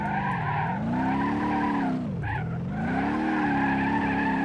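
Car tires squealing through a drift in BeamNG.drive, a steady loud screech under engine noise whose pitch dips sharply about midway through and then recovers.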